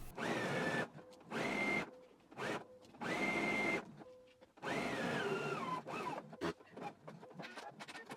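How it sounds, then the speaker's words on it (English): A sewing machine stitches pant leg seams in repeated bursts of steady whirring, each run stopping and starting with short pauses between, close and fairly loud. "I'm gonna go to the sewing machine and sew it down at a 5/8 of an inch seam allowance"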